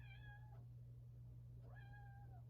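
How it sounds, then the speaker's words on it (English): Two drawn-out cat meows, clear and fairly close, each a single falling cry separated by a short pause over a steady low background hum. "I'm sorry about the cats."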